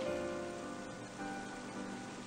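Rain falling in the video game Final Fantasy XIII, a steady, soft hiss of rain on a surface that runs unbroken throughout, blended with a quiet musical drone.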